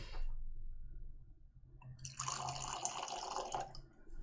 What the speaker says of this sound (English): Should we pour? Let's pour.